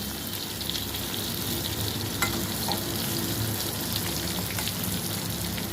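Potato pieces frying in oil in a pan with the lid lifted, a steady dense sizzle and crackle that stays constant and fairly loud throughout, with no voices.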